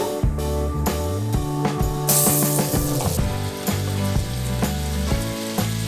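Butter sizzling in a hot pan for a spicy lemon chicken dish, a steady frying hiss running beneath loud background music throughout.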